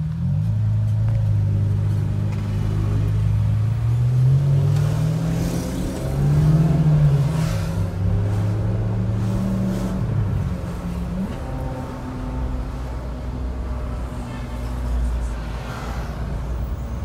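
A McLaren Senna prototype drives through the streets of São Paulo, its engine rumbling loud and low, revving up and down through gear changes against steady traffic noise.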